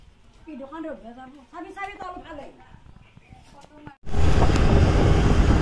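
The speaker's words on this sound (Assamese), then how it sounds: "কি ধুনীয়া হাৱা দি আছে নে বতাহ" Strong wind gusts over a tree-lined rural road roar loudly and steadily into the microphone for the last second and a half, after a few seconds of people talking.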